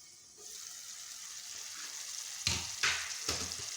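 Egg and tomato frying in a pan in a village kitchen, a steady close sizzle broken by three louder bursts as the mixture is stirred near the end.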